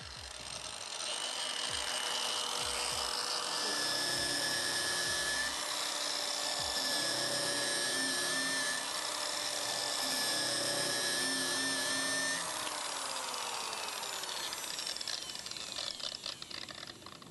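A power tool polishes stainless steel with a continuous, loud, high whine and shifting tones as speed and pressure change, steady for the whole stretch before easing slightly near the end, with no speech.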